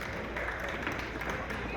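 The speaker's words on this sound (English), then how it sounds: "And a nice round of applause for these great polka dancers" Audience applause for polka dancers at a ballroom dance competition, a steady wash of clapping held at an even level throughout, with a faint murmur of voices mixed in.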